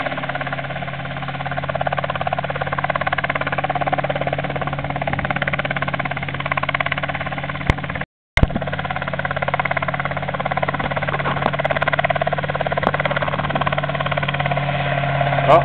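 A model airplane engine at an outdoor fly-in event: a steady, buzzing drone with a strong low hum that holds throughout, briefly cutting out near the middle, with faint talk in the background.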